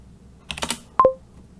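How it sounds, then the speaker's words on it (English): Short, close bursts of computer keyboard typing come first, a handful of quick clicks, followed by two sharp electronic beeps in a quiet room. "more random typing"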